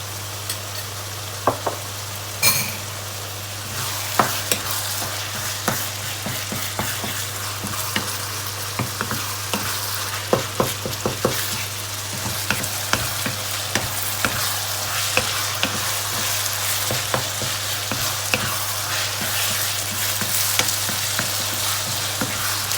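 Pork stir-fried with holy basil in a pan without vegetable oil, a steady sizzle under a low hum, broken by frequent sharp scrapes and clacks of the spatula, with no talking.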